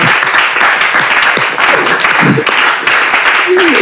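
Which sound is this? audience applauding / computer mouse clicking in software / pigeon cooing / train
audience applauding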